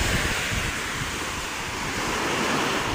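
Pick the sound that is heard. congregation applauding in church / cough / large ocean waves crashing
large ocean waves crashing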